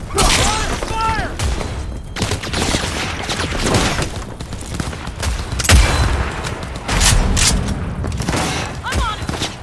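Dense, sustained gunfire crackles through a Cyberpunk 2077 cutscene, loud and continuous with heavy booming impacts, as characters shout over the firefight.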